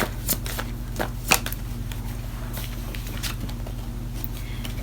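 Tarot cards being shuffled by hand, a soft papery riffle with a few sharper snaps against a steady low background hum, close and fairly quiet.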